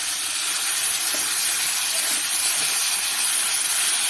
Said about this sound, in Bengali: এবার দিয়ে দেবো